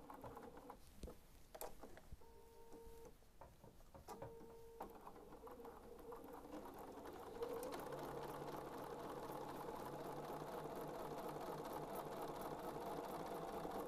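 A sewing machine stitches slowly and steadily on a doll panel quilting project, with a clear presser foot; a soft rhythmic patter runs close and continuous, growing fuller in the second half after some light handling noises.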